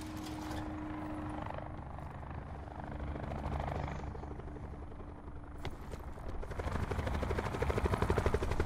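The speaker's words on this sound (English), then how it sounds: "The helicopter's already fucked up, bro." Steady rotor drone of a helicopter in Call of Duty: Black Ops 4 with a low chopping throb, growing slightly louder toward the end, with faint game background noise.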